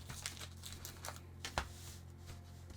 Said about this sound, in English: let's give them a little shuffle